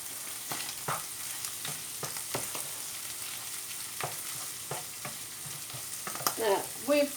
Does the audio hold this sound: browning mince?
yes